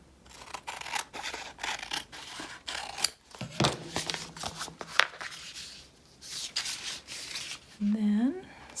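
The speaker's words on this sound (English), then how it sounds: "we're going to trim up this side a little bit" Scissors snip and slice through paper in a run of close, rhythmic rasping cuts while trimming a journal pocket, with a few handling rustles and a voice speaking near the end.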